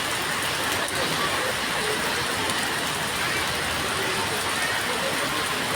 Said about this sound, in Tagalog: Naabutan ako ng ulan.